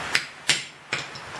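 Three crisp metallic hammer taps on a Ford 351 Windsor engine ring out at an uneven pace, close and clear, each with a short bright decay.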